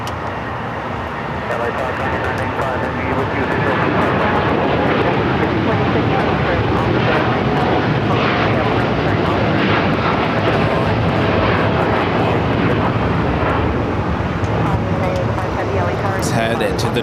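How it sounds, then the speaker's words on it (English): United Dreamliner jet taking off at LAX, a loud sustained engine roar filling the whole stretch, with a voice talking over it. "Let's head to the United Dreamliner now, taking off."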